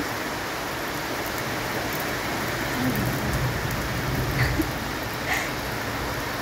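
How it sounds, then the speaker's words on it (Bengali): Steady night rain pours down on a surface in a dense, even hiss, with faint low rumbles of thunder rolling underneath now and then; no voices. "মেঘাচ্ছন্ন আকাশ, বিদ্যুৎ চমকাচ্ছে, তার মধ্যে আবার বৃষ্টি হচ্ছে"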